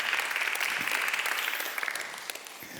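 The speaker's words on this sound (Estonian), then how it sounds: "Teeme suur aplausi Maarjale." Audience applause at an adult education awards ceremony, a dense steady clapping from a large crowd that carries on throughout at an even level.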